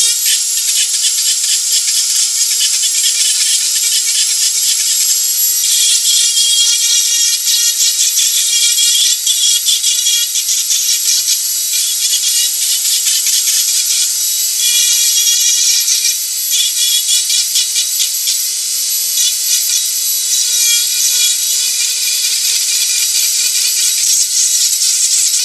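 A Dremel 4000 rotary tool grinds steadily into wood while carving a wood spirit figure, giving a continuous high-pitched whine that stays close and loud for the whole stretch, with slight dips and surges as the bit moves across the surface.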